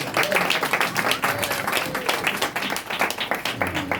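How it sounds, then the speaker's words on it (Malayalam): Audience at a Christian fellowship gathering clapping steadily for a prize presentation, a dense continuous patter of many hands heard close and fairly loud for the whole stretch, with no clear talk over it. "ഒന്ന് കൈയടിച്ചേ."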